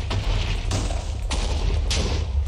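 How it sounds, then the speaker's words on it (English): TNT blasts go off in the Minecraft video game, tearing apart a house in a dense chain of loud, booming explosions that overlap with about four sharper detonations standing out, with no voices. "It's blowing up the house. TNT is flying everywhere."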